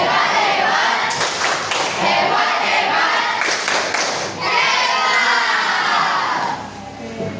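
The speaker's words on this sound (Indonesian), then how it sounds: "Kita beri tepuk hebat dulu. Tepuk hebat." A group of students and teachers gives the rhythmic 'tepuk hebat' clapping cheer at the close of a school counselling session, a loud, dense wash of hand claps and crowd noise that runs throughout, with bursts of stronger claps and voices.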